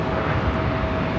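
A jet airliner at Los Angeles International Airport (LAX) roars steadily and loudly near runway 24 left, a dense, continuous engine rumble with no talking.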